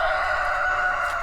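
Roosters on a homestead crow in a steady, sustained call, fairly loud and close with no talking over it.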